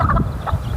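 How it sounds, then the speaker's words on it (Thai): A mother hen with young chicks gives a couple of short, low clucks, close and quick, over a soft background hum. "ไก่แม่ลูกอ่อนผู้มาแล้วตัวน่ะ"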